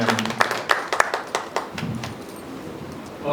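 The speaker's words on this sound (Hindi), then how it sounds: "आपकी जोरदार तालियों के बीच में आदरणीय डॉक्टर साहब को" Audience applause at a Hindi Diwas poetry gathering, a burst of scattered claps that thins out and fades within a few seconds.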